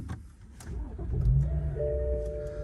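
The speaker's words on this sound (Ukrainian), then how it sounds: "автомобіль заводиться гарно, працює рівно" A 2015 BMW 640 engine fires up with a short starter crank, then settles into a low, smooth idle, close and steady with no talking.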